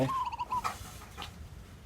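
A recording of zebra dove calls plays for a young dove chick: a quick series of clear, trilling notes, then softer fading calls over low background noise.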